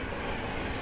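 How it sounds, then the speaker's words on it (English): Train going by on a rural line near Scorton, a broad steady rumble heard over road noise while riding a 1962 Lambretta Li 150 Series 3 scooter. "there goes the train"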